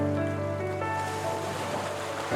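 Sea waves surge at Tanah Lot temple on the Bali coast, a dense, continuous roar of surf that stays loud and steady throughout, with no voices.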